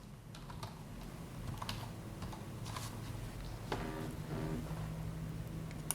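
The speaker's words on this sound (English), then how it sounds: "I'm going to have to put in my password" A password is typed on a computer keyboard: a quick, steady run of light key clicks, close and fairly quiet, with no talking.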